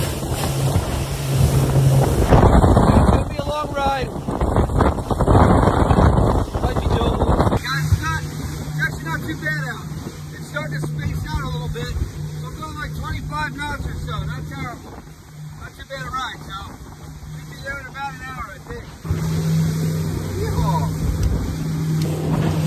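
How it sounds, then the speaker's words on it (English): Steady wind rushes across the open ocean during a boat run, a broad continuous roar with hull and water noise, while a voice talks over it near the start and middle. "Wind kind of kicked up."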